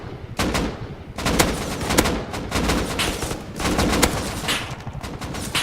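Repeated gunfire in a video game, loud bursts of shots in several volleys with short pauses between, ringing close and sharp throughout.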